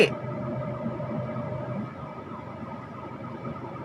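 Emergency vehicle siren wailing continuously at moderate distance, steady and unbroken through the whole stretch with a faint wobbling pitch, no talk over it.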